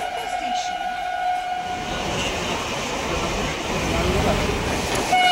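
A train stands at platform 1 of a railway station on a Kolkata-area line, with rolling rumble and a sustained whistle or horn tone, loud and close, over general platform bustle.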